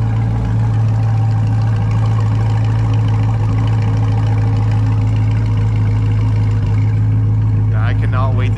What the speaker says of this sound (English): Here it's revving down now